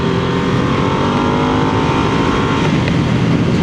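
A Harley-Davidson Nightster motorcycle's engine pulls hard at full throttle, a loud, sustained, rorty exhaust roar heard close up from the rider's position, with wind rush behind it.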